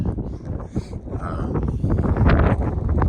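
Strong mountain wind roars across the microphone at the Keyhole on Longs Peak, a loud, gusty buffeting rumble that builds over a few seconds.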